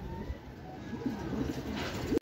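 Racing pigeons return from a 135 km training flight in Rosales, Pangasinan, with soft cooing close by and a few wing flutters and rustles against quiet outdoor ambience.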